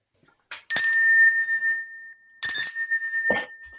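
A small hand bell rings twice, each a bright sustained ding with a lingering ring that slowly decays, the second strike followed by a brief extra clatter; close and clear, with no talk.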